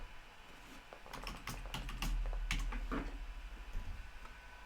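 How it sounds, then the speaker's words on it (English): Rapid, irregular keystrokes on a computer keyboard, clustered in short bursts over a low background hum, fairly close and moderately loud. "Let's type yes for that."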